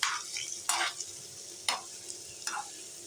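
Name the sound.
vegetables for pulao being stirred and fried with a small spoon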